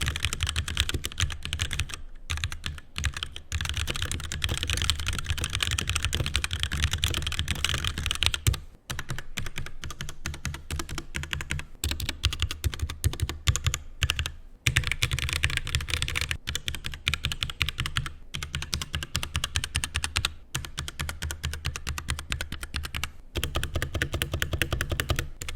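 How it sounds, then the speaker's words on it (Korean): Steady fast typing on a HyperX Alloy Origins mechanical keyboard with linear Cherry Red-like switches, dense close clacking keystrokes running continuously with a few brief pauses, no talking. "우선 타이핑 소리부터 들어볼게요."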